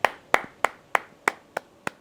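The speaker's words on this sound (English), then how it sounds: "Round of applause, everyone." Hand clapping at a golf driver test session: seven crisp, close claps at an even pace of about three per second from a single pair of hands, with no talking.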